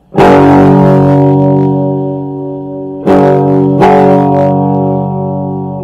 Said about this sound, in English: So this is what the amp sounds like, just normal, with no pedals, just running straight through.